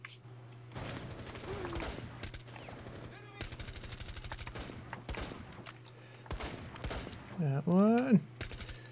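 Rapid automatic gunfire in Rainbow Six Siege, several bursts of close, loud shots with short pauses between, while someone speaks briefly in between.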